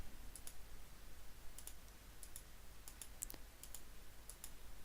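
A computer mouse gives a series of small, crisp clicks while tubes are selected in a game editor, some single and some in quick pairs, faint over a steady low hum.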